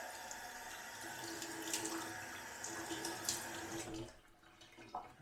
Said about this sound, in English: gonna get the face washed off, get into our second pass here.